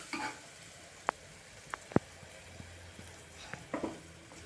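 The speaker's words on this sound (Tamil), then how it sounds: "சிம்மில் வச்சுட்டு அதை நல்லா வணக்கி விடுங்க" Chili and masala powder sautés gently in a pan over a low flame, with a faint continuous sizzle broken by a few sharp clinks of a spoon against the pan.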